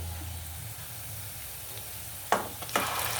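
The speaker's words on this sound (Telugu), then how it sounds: "ఉల్లిపాయలు ఫ్రై అయిపోయినాయి బాగా. ఇప్పుడు ఫిష్ ఎగ్ వేసుకున్నాం" Fish roe dropped into a pan of well-fried onions, a steady low sizzle that flares into louder spattering crackles as the roe goes in, then settles with a few stirring scrapes.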